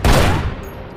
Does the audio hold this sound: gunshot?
yes